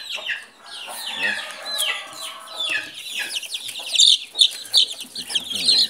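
A hen clucks near her chicks, whose thin high peeps rise toward the end, close by, with people talking quietly over the birds.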